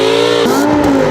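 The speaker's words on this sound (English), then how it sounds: "this time, it's coming with a naturally aspirated V10" A BMW M5 E60 with a naturally aspirated V10 revs loud and close, its high-pitched engine note rising and then dropping as it shifts.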